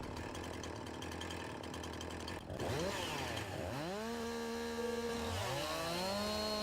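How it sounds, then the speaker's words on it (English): A chainsaw in Farming Simulator 19 idles with a steady drone, then revs up and down in rising and falling whines as it cuts through wood, loud and close with no talking. "Let's get the chainsaw back out then."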